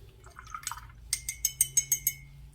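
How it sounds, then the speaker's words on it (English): A paintbrush is swished and tapped in water while painting with food coloring: close, light liquid splashes and drips, then a rapid series of small clinking taps against a glass container. "I'll wet my brush."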